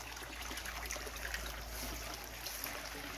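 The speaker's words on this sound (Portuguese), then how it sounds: "Esse aqui é meu filtro." Water trickles steadily through a home aquarium's overflow filter system, a soft continuous wash of flowing water with no voices over it.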